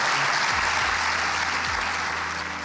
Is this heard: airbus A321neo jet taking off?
no